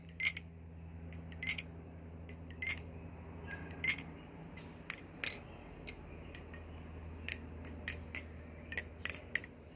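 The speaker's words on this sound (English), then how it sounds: "Got those good rings and clacks." Butterfly knife being spun through palm fan tricks, freshly retuned and lubed, giving a string of sharp metallic clacks and short rings in an irregular rhythm, close and clear over a quiet room hum.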